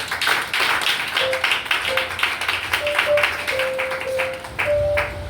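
A church congregation applauds in rhythmic unison, a dense steady clapping that fills the room, with faint voices and brief sustained tones rising under it.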